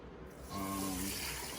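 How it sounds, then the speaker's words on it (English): Water pours from a tap into a rice cooker pot for cooking rice, a steady close filling splash that starts suddenly and keeps running to the end. "And then we're gonna add 3 cups of water."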